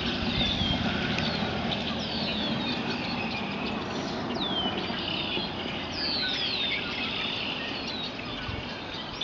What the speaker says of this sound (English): the birds singing today